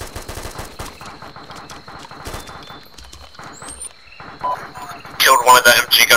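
Rapid automatic gunfire from the military shooter game ArmA 2 crackles in close bursts, then a sparse pause with distant shots, and a loud dense volley erupts near the end, with radio-style voice chatter running through it.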